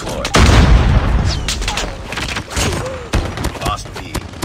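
A sentry gun in a video game fires bursts of booming gunfire amid heavy explosive thuds and chaotic battle noise, loud and dense throughout, with a voice briefly heard.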